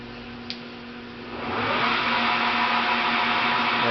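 The spindle of a ProtoTrak 1840 CNC lathe starts up and spins at about 500 RPM, rising into a steady, fairly loud whir with a constant hum underneath.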